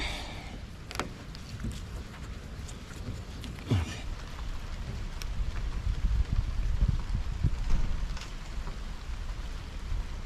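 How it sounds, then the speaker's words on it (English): Steady broadband hiss of rain falling over a full, running river beside a Dutch barge, continuous and fairly loud, with occasional soft knocks and splashes. "So it's been raining."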